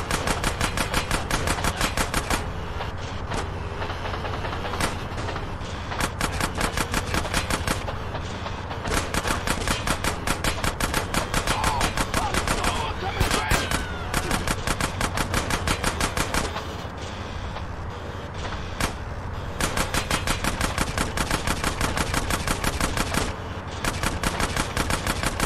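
Continuous, dense gunfire from GTA San Andreas Remastered as enemies are shot down: rapid automatic bursts, loud and close, running almost without pause with only brief gaps.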